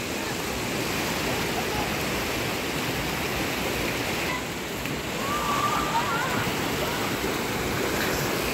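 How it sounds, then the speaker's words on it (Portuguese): Small river stream good for bathing, set among hills near São Gabriel da Cachoeira: a steady, broad rushing of flowing water that fills the scene evenly throughout, with no breaks. "O riozinho bom pra tomar banho."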